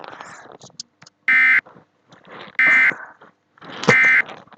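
A 1050 Hz Emergency Alert System attention tone sounds from a radio in three short, loud, steady bursts, separated by quieter data-burst chatter and noise.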